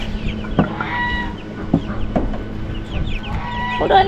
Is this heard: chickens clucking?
yes